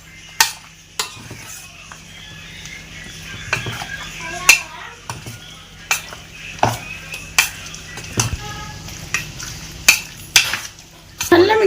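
A utensil clinks and taps against a bowl while chicken is mixed with cornflour, soy sauce and egg for dragon chicken. The hits are sharp, close and irregular, over a quiet wet stirring.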